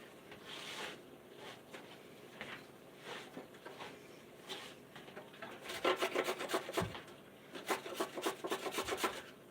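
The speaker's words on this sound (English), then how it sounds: "I'm going to use this grater here" A carrot being grated by hand for chili, quiet rasping scrapes at first, then a quicker run of rhythmic strokes near the end, close and faint.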